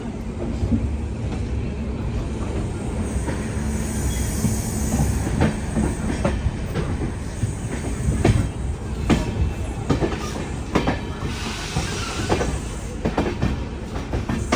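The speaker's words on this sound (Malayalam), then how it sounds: "അങ്ങനെ ന്യൂഡൽഹി റെയിൽവേ സ്റ്റേഷനിൽ നിന്ന് ട്രെയിൻ എടുത്തിരിക്കുകയാണ്" The Jhelum Express leaves New Delhi railway station, rolling steadily with loud, continuous rumbling and rhythmic clattering of wheels over rail joints, heard up close from a sleeper-class coach without any talking.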